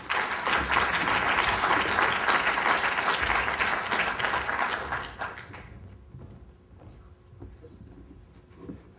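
Audience applause welcoming speakers at a seminar on writing thrillers, loud and steady for about five seconds before fading into scattered claps and room murmur.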